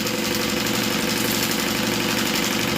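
Sewing machine stitching down the side of a zipper panel, a steady, loud, continuous mechanical whir with a dense motor-like drone and rapid needle vibration, running unbroken throughout with no talking.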